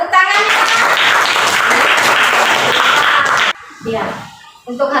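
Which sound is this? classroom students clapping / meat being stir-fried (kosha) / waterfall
classroom students clapping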